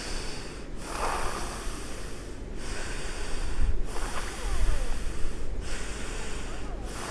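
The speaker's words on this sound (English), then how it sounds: "Just move your belly, move your navel in and out, maximum in, maximum out when you go with the flow of the breathing." Forceful rhythmic breaths through the nose during a pranayama breathing exercise, belly pumping in and out, repeating as steady loud whooshing snorts in a close, continuous sequence.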